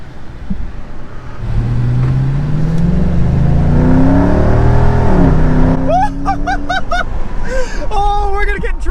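A Dodge Charger SRT revs loudly, its engine note rising and falling in long sweeps before it pulls away; people speak and exclaim in the final seconds over the fading engine.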